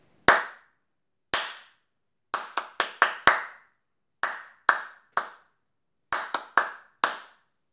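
Hands clap a rhythm exercise for a music lesson: a pattern of sharp, close claps, first two single claps spaced apart, then quick groups of four and three with short gaps, loud and alone.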